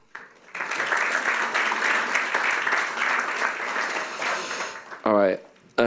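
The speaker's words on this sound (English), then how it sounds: "Round of applause." Audience applause at a talk on making voice apps as a volunteer is called to the stage, a steady dense clapping that swells and holds for about four seconds before a speaker's voice briefly cuts in.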